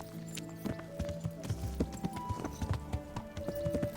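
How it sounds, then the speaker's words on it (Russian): Horse hooves clip-clop at a walking pace in the medieval video game Kingdom Come: Deliverance, with irregular close footfalls over a low ambient background. "Мы можем на этой лошади поехать."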